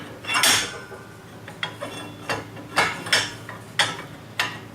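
A metal hitch pin dropped into the hole of a small excavator trailer's tongue gives several sharp metallic clinks and rattles at irregular intervals, close by and fairly quiet, with no talking.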